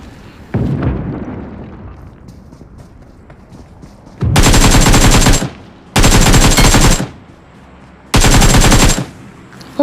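Gunfire in the mobile shooter BGMI on the Livik map: a single shot, then three loud, sharp bursts of rapid automatic fire, each lasting about a second, with quiet game ambience between them.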